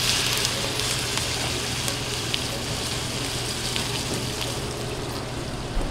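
Food searing on a smoky, very hot pan over a grill, a dense continuous sizzle with scattered small pops and crackles, close and loud, no voices.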